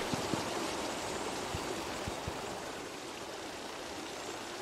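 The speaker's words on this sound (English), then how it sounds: "This looks like a waterfall I can climb if I freeze this room." Steady broadband rush of a waterfall in the video game Outer Orbs, continuous and even for the whole stretch, with a few soft low thumps beneath and no talking.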